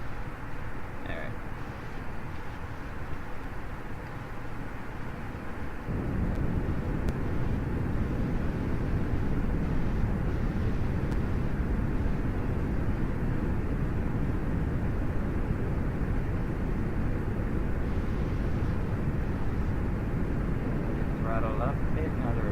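Aircraft engine in Kerbal Space Program throttling up, a steady loud roar that grows fuller and stronger partway through and then holds as a continuous drone.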